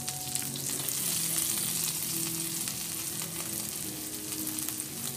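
Garlic frying in butter in a pan gives a steady, close, bright sizzle that holds without break, with no voices over it.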